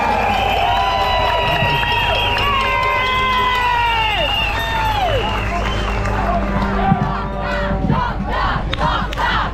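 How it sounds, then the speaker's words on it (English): A protest crowd in Melbourne roars with cheers, shouts and whistles, loud and close, swelling into clapping and hollering for a speaker being welcomed to the stage. "let's welcome him with a big warm round of applause"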